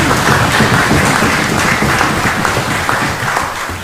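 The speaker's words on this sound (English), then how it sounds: "Please clap." Loud, dense clapping from members and guests during a special sitting of the House of Representatives, a steady close wash of applause throughout.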